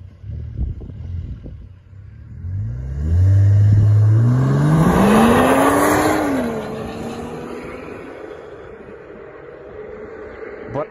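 A 2013 Volvo S60 T6 R-Design with a twin-scroll turbo engine downshifts and accelerates hard, its engine note rising loud and close in a sweeping climb before easing off into steady road noise.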